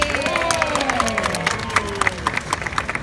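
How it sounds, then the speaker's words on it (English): Audience applause at a live dog performance show, a crowd clapping steadily with some cheering and scattered sharp claps standing out near the end. "So I'd like a nice round of applause for Lily."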